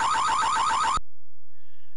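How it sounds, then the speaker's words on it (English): An electronic alarm blares inside a room in the video game Mean Streets, a rapid warbling pulse repeating about six times in one second before cutting off abruptly to near silence. "I enter the room, setting off the alarm."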